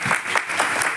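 An audience at a community association meeting and awards ceremony gives a short burst of applause, with dense clapping for about a second.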